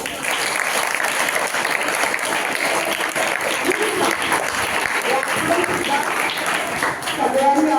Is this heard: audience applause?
yes